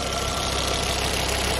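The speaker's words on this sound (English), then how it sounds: "I'm going to let the car run a little bit out here on the driveway" A car engine idles steadily on a driveway, a dense continuous hum and rattle with no break or talk.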